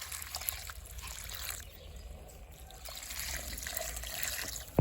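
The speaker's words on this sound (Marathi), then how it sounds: "आता तर हे पाणी आपण याच्यामध्ये टाकून देणार" Liquid fertilizer made from banana peels and rice water pours steadily into a potted chikoo plant growing in a bucket, a close, continuous trickle with no talking.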